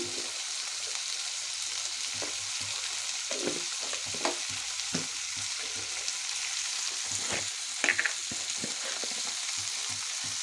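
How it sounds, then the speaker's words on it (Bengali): Vegetables frying in a pan with salt and turmeric, a steady hissing sizzle beneath intermittent stirring scrapes and a couple of sharper knocks near the end, close by, with no voices. "এখন এগুলো ফ্রাই করতে থাকবে"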